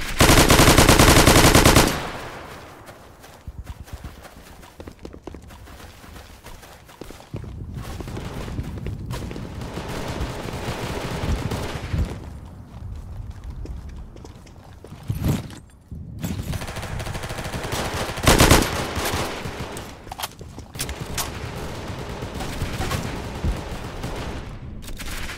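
Sniper and machine gun fire in a war drama: bursts of automatic fire and sharp single shots crack close and loud over a rumbling battlefield, with a heavy blast at the start and no voices.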